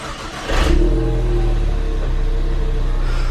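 A car engine cranks and fires up through a straight-piped exhaust, catching with a loud burst and then settling into a steady, close, throaty idle with no talking.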